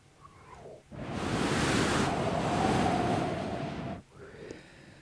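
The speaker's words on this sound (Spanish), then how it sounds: "El sonido del viento," A strong gust of wind rushes in, roaring steadily for about three seconds before cutting off abruptly, with quieter ambience before and after.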